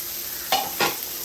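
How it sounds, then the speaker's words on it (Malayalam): Onions sauté in a pan over a steady low sizzle, with two short, close scraping strokes of a spoon stirring them. "ഇത് നല്ലപോലെ ഇളക്കിയിട്ട് നമുക്ക് ഈ സബോള ഇതിലേക്ക് കൊടുക്കാം"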